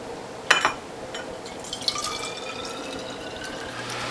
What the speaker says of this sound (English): Now I'm filling these bottles from behind so the camera can get a good look